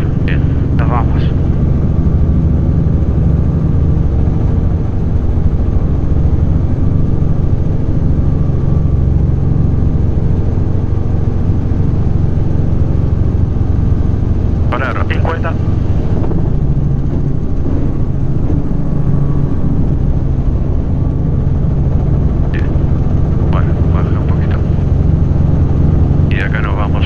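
A rotor aircraft's engine runs steadily and loudly throughout during a pre-takeoff run-up, with a few brief bursts of voice breaking through over the constant drone.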